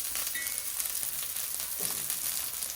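A rack of lamb sears in a hot pan, giving a steady, fairly quiet broadband sizzle throughout, with a faint scrape or shift of the meat near the end and no talking.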